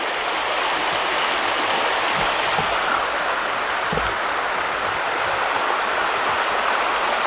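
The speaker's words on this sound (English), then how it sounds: "the river's down there" A river rushes steadily below Pisgah Bridge, a continuous broadband roar of flowing water that holds at even loudness throughout with no talking.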